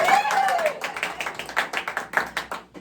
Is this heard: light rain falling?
no